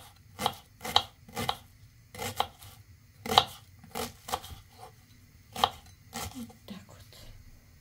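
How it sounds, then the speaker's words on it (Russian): A knife chops an onion into small squares on a board in quick, uneven bursts of sharp taps, about a dozen in all, close but fairly quiet. "Теперь мы нарезаем луковицу."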